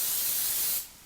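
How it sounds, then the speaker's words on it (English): Cooking spray sprayed into a hot pan on a stove, one steady close hiss lasting under a second before cutting off. "a little bit more cooking spray"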